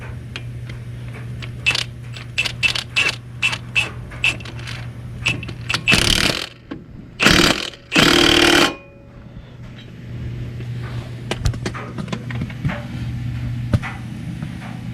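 An impact gun drives a lug nut onto a two-door Chevy Tahoe wheel, with rapid bursts of sharp rattling hammering, two longer sustained runs in the middle, and scattered clicks and clanks of handling around them.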